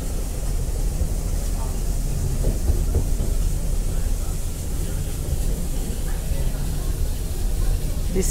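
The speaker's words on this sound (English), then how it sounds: "This train ride is so extraordinary." Steady, loud rumbling of the Brienz Rothorn mountain railway train in Switzerland rolling along the rails, a continuous dense roar with faint voices underneath.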